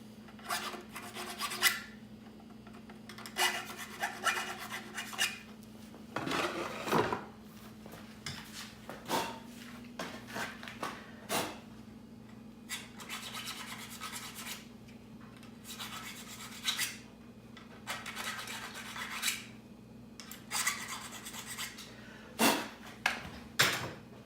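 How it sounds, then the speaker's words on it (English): A small hand file rasps burrs off detachable antlers in quick, uneven strokes, a fairly quiet, close scraping with short pauses between passes. "Just get a small little file like this. Let's clean up those burrs."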